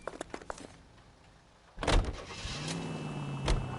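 In the L.A. Noire driving game, a car door shuts with a loud thump, then the engine starts and hums steadily, with a few faint clicks beforehand and no talking.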